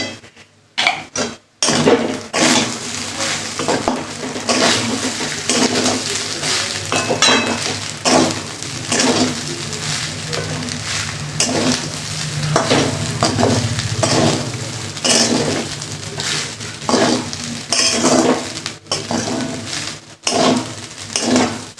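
Rice with fresh vegetables, garam masala and a little ghee frying in a pan, stirred with steady scraping, clinking strokes over a continuous close sizzle, a few brief pauses near the start.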